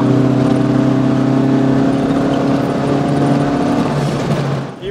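A 1967 Renault 8 Gordini engine runs at steady high revs, a loud, close, sustained drone with a constant pitch that fades slightly at the very end.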